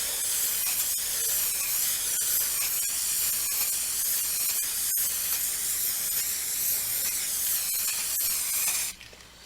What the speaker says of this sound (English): So that's spray paint